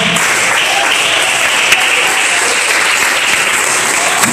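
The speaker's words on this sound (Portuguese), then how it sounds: "Louve ao Senhor com as palmas" Worshippers in a church clapping their hands in praise during a service, a loud, dense, continuous wash of applause from the whole congregation holding steady, with a faint voice underneath.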